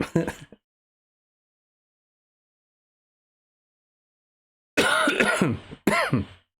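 Two short bursts of coughing and throat clearing, close and loud, separated by a long stretch of silence, with a brief cough at the very start.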